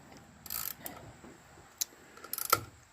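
Bolts tightened on an air compressor gasket during a Campbell Hausfeld compressor repair: sparse metallic clicks and short ratcheting bursts, near and fairly quiet, with brief gaps between them.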